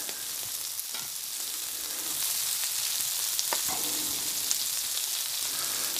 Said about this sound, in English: I'll push them all down to the bacon grease.